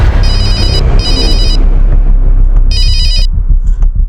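A telephone rings with an incoming ransom call, three bursts of a bright electronic ring separated by short gaps, loud over a steady low background rumble.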